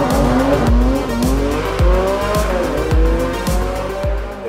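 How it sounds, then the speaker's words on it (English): Porsche 718 Cayman GT4 RS doing a launch control start at Estoril, its engine screaming loudly through rapid successive upshifts with rising revs and a brief tire squeal, alone without talk. "A launch control start with a GT4 RS is super easy."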